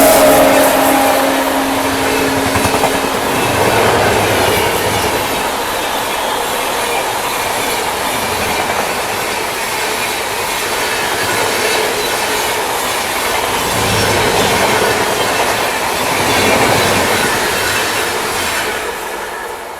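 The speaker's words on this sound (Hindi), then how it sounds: "तो ये निकली बेंगलोर दानापुर संघमित्रा एक्सप्रेस ओवरटेक करके।" Bangalore–Danapur Sanghamitra Express passing close on the main line while overtaking a stopped special train, a loud continuous rumble of rolling wagons with clickety-clack wheel beats and some wheel squeal throughout.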